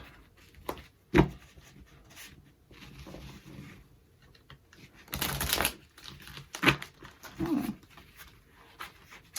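Tarot cards are shuffled and handled in short bursts of riffling and tapping, with quick clattery flutters separated by pauses.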